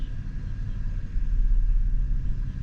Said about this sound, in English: The car is running rougher.